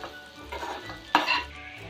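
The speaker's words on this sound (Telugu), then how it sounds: "బాగా మిక్స్ చేసుకోవాలి" A spoon scrapes and stirs soya chunk and egg bhurji in a hot pan, soft sizzling under a few clinks of utensil against metal, near and fairly quiet, with no talk.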